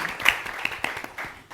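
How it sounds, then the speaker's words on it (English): An audience applauds panelists at an emergency response event, a short burst of many hands clapping at close range that fades toward the end. "Please give my panelists here a round of applause for the information that they've shared."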